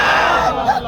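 A crowd at a religious sermon gathering shouts slogans in unison, a loud, dense burst of massed voices filling the space for under a second.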